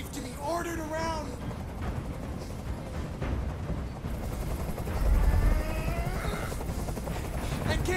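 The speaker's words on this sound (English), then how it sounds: "I can't stand that noise anymore. Tell that helicopter to get out of here." A helicopter hovers overhead with a heavy, continuous rotor roar that swells at moments, while people speak over the din throughout.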